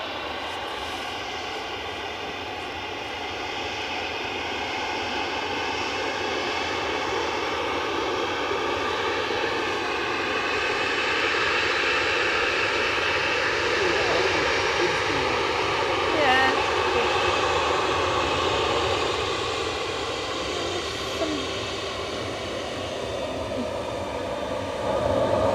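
A United Airlines jet waits before take-off at Edinburgh Airport, heard from a distance. Its engines give a steady, moderately loud whine and roar that rises slightly partway through, and voices are faintly audible.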